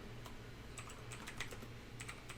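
Someone types on a computer keyboard, producing soft, uneven key clicks in short clusters over a steady low background hum, with no talking.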